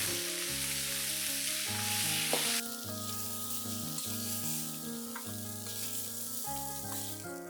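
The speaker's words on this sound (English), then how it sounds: "I'm frying these wings in 2 batches because my pan is a bit small." Chicken wings sizzle and spit as they fry in a small pan, a steady bright hiss that runs throughout, with tuneful background music underneath.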